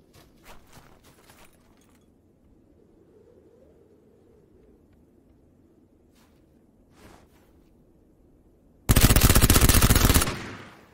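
Shooter video game gunfire: faint distant pops and footsteps at first, then a loud, sustained burst of rapid automatic fire near the end, about a second and a half long.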